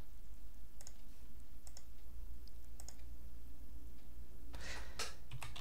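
Mouse clicks on a computer installer icon, a quick pair of sharp clicks near the start followed by a few more scattered clicks and a brief rustle at the end, close and crisp over faint room hum.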